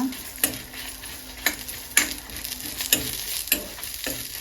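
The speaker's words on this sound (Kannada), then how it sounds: "ಒಂದು ಸ್ಪೂನ್ ಆಗುವಷ್ಟು ಬೇಳೆ ಇಷ್ಟು ಹಾಕಿ ಚೆನ್ನಾಗಿ ಫ್ರೈ ಮಾಡ್ಕೊಳ್ಳುವ" Coriander seeds, cumin and lentils frying in a pan, a constant crackling sizzle broken by about eight sharp spoon scrapes and taps at an irregular pace.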